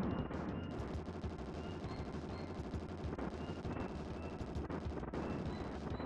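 Continuous rapid gunfire and explosive blasts in the video game Bazooka Blitzkrieg, a dense unbroken barrage of shots with retro game sound effects, steady and loud throughout without talk.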